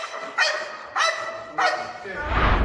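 A police sniffer dog at a theft investigation lets out three sharp, loud barks spaced about half a second apart, with a burst of louder noise at the end.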